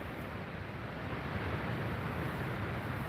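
Strong wind blows at an outdoor hunting blind, a continuous, loud roar buffeting the microphone for the whole stretch with no break or voice.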